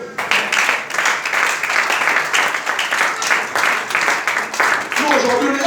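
A church congregation applauds together in a dense, sustained wave of clapping that stays loud and steady for several seconds before a voice begins to speak near the end.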